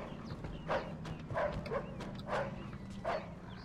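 A dog barks repeatedly in the video game Mafia 2, about four or five evenly spaced barks at moderate distance over a low ambient hum.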